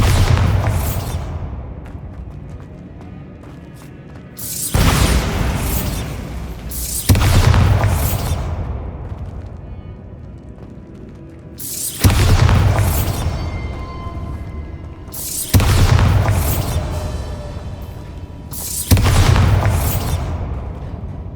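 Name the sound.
Bombarda spell explosions in Hogwarts Legacy video game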